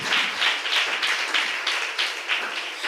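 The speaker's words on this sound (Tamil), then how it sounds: "நல்ல கைத்தட்டி தேவனை மகிமைப்படுத்துங்க." A church congregation claps together in a steady, rhythmic beat, loud and close, with no speech over it.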